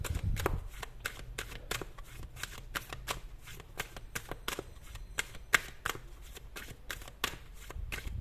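Tarot cards are handled and laid out, with a rapid run of close, crisp snaps and flicks repeating in quick bursts against a quiet background.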